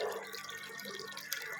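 Water spills steadily through a hole in a pump line, making a close, continuous splashing and trickling with no talking.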